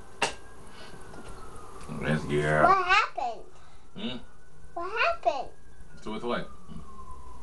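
An ambulance siren passes in the distance, its faint wail sliding down in pitch behind a child's chatter and an adult's voice.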